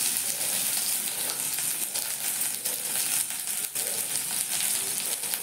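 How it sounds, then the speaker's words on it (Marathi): Sliced onion sautés in a pan for roasting with coconut, giving a continuous close sizzle and crackle with soft stirring scrapes, and no talk over it. "कांदा सुद्धा आपण गुलाबी रंगावर परतून घ्यायचा."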